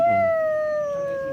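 A dog howls in one long, sustained, slowly falling tone, loud and close, with no talk over it.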